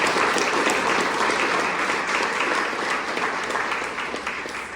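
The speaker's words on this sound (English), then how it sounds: "give a big round of applause for that" An audience at a community forum on the Gold Coast gives a dense, steady round of applause that fades slightly toward the end, with no one speaking over it.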